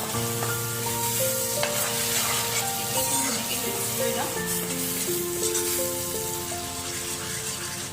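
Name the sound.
spice paste frying in hot pan for dum aloo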